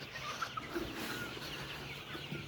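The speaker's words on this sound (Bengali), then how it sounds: "এই দেখেন মুরগিগুলোকে এখন খাদ্য দেওয়া হচ্ছে" Hybrid chickens on a farm clucking while being fed, a dense flock murmur of soft clucks heard close, with no talking.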